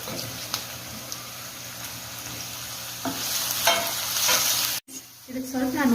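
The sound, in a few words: cauliflower frying and being stirred in a pan for pav bhaji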